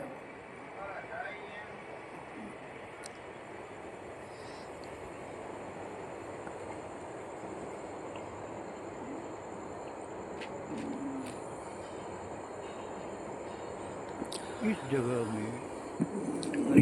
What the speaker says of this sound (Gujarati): પણ આ ટ્રેન વાંકાનેર જશે કારણ કે એ વાંકાનેરની લાઇન ઉપર ચાલી રહી છે